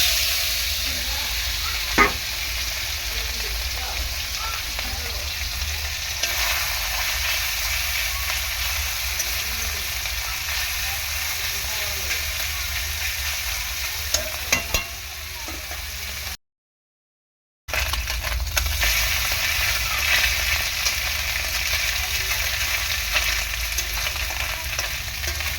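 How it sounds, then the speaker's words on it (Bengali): Small mourala fish frying in hot oil give a steady, loud sizzle and crackle that runs almost the whole time, with a brief drop to silence partway through and no talking. "এখন আর কতগুলো মৌরলা মাছ আছে সেই কটা একটু দিয়ে দেবো।"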